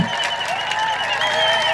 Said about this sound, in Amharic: ጭብጨባ ለጌታ ክብር።